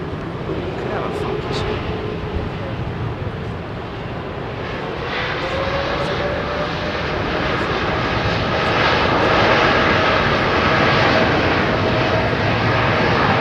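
A Qantas jet airliner on QF2 departing London Heathrow roars steadily at full throttle and swells slightly louder as it climbs away, with people talking over the engine noise.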